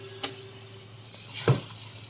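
Onion pickle hitting hot tempering oil with asafoetida in a pan, giving a brief close sizzle burst midway after a short clink, then a low steady frying hiss.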